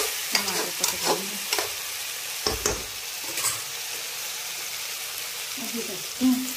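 Bitter gourd bhurji cooks in a pan with a steady frying sizzle, broken by a few sharp stirring scrapes, with no talk over it.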